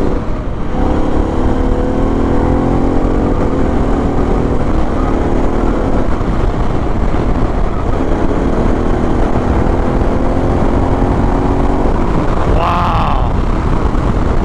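Harley-Davidson Pan America motorcycle engine pulling hard in sport mode, a loud steady roar with rising revs through gear changes and heavy wind rush throughout.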